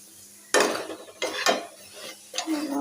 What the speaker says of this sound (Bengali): এই দেখো এখন যে পরোটা ভাজছি